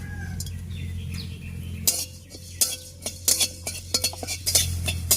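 Whole cumin, fennel and coriander seeds dry-roasting in a wok, with a series of sharp metallic clinks and scrapes from a spatula against the pan over a steady low hum.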